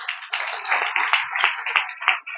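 A church congregation at a Sunday service claps in a fairly regular rhythm, a bright patter of many hands at moderate distance, with no one speaking over it.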